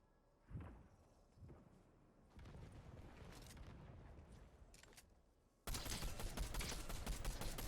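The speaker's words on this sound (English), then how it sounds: "those shots stopped without anybody dying or anything like that" Gunfire in Fortnite Zero Build: a couple of muffled shots early on, then a sustained rattle of distant gunfire, ending in a louder, dense stretch of shooting.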